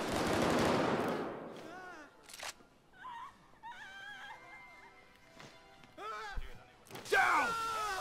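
Bursts of gunfire in the video game PayDay 2 on Xbox One, with a heavy opening volley followed by scattered shots, while several players talk and shout over the game.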